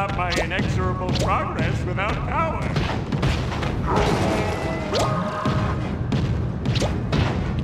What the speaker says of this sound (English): Boy, am I smashing this place up.